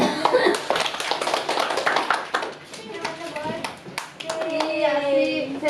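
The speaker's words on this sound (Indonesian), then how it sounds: "Oke, beri tepuk tangan untuk Andi." Schoolchildren in a classroom clap for a classmate, a quick burst of scattered hand claps that thins out as a teacher and children talk over and after it.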